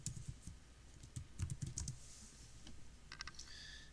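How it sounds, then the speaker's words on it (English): Typing on a computer keyboard, close by, in uneven bursts of clicky keystrokes with short pauses between them. "And I want you to type in"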